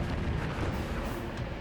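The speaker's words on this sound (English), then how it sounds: "Laffey's 5-inch guns quickly open fire" A dense, continuous roar of gunfire from the 5-inch naval guns of the destroyer Laffey, booming heavily and steadily with no clear gaps between shots.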